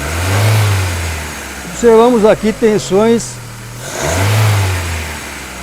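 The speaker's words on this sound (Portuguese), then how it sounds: "Quando eu acelero o motor," A car engine is revved up and eased off during a knock sensor test, rising and falling twice around a short stretch of speech, loud and close.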